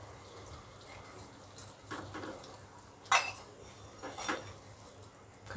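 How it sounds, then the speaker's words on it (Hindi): A spoon scrapes and clinks softly in a pan while sour spice is stirred into an arbi (taro root) curry, with two sharper metallic knocks near the middle and later, all fairly faint and without talk. "खटाई को हम इसमें अच्छी तरह से मिक्स कर देंगे।"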